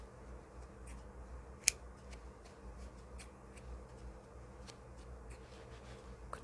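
Scissors snipping knitting yarn on a knitted hat, a few small soft clicks and snips spread out, one sharper cut, over a quiet room background.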